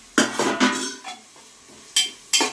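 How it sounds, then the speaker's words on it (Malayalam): Remaining tomatoes go into a pan for biryani, with a spoon clattering and scraping against the metal pot in several short, loud, close bursts separated by brief pauses, and no speech. "ബാക്കി തക്കാളി ഇടാൻ പോവാണ്."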